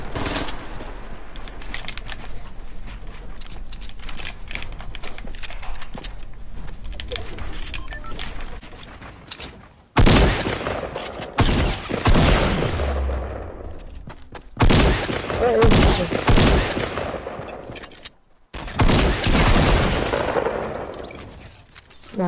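Rapid bursts of video game gunfire in a scrim match, including hunting rifle and LMG fire, crackle in dense volleys, first lighter and scattered, then louder heavy salvos with brief pauses between them.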